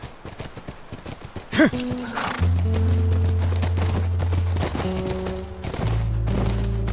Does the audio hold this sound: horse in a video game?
yes